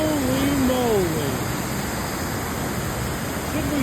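A roaring waterfall at night gives a dense, constant wash of rushing water, and a person's voice speaks briefly over it at the start.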